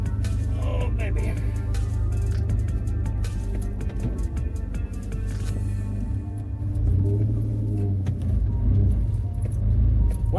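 An Isuzu Trooper cruises down the road, its engine and tire rumble droning steadily from inside the cabin, swelling slightly as it accelerates, with a person talking over it at times.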